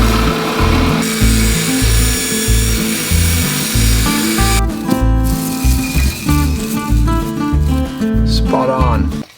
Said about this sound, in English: I'm going to take it to the belt sander and just grind this stuff down just a little bit more.